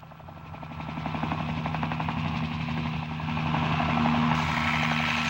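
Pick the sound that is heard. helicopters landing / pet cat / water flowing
helicopters landing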